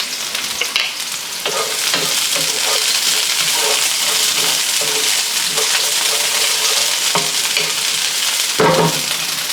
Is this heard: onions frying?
yes